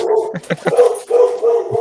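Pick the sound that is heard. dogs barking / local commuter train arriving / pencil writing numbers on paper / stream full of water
dogs barking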